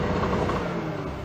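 A 1971 car engine is held at high revs against an electronic rev limiter that cuts out the extra firings, giving a steady, loud mechanical drone with a rough, stuttering texture and no voices.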